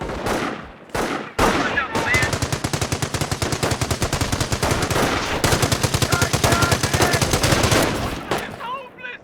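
Sustained automatic gunfire from a Company of Heroes battle, dense rapid bursts of machine-gun fire with scattered rifle shots, loud and close, running almost continuously after a few opening shots, with brief voice callouts mixed in.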